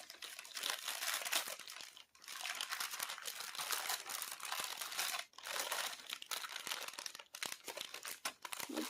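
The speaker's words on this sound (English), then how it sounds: "We'll pull the parchment paper back slightly, be very careful, the beads are still warm." Parchment paper lifted off warm, just-ironed perler beads makes continuous close crinkling and rustling in long bursts, with a few brief pauses between handlings.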